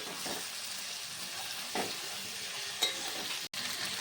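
Potatoes frying in a ginger-tomato masala in a pan, a steady loud sizzle with a few faint stirring scrapes and one brief dropout.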